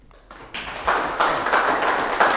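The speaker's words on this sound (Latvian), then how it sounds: "ar aplausiem aicināsim Daiga Miščenko ar stāstu" An audience at the Spāka LAB 2025 event claps to welcome speaker Daiga Miščenko, applause rising from a few scattered claps to a steady, fairly loud round.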